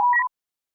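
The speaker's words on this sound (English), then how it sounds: "The other one is your pagers going off." Ranger pager alarm for a Power Rangers tabletop RPG: a single very short electronic beep, a steady tone with a brief higher overlay, lasting under a third of a second and then cutting to silence.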